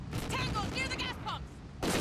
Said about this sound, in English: I'm taking fire over here!